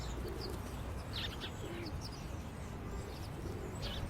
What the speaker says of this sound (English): I can hear bird noises chirping in the background.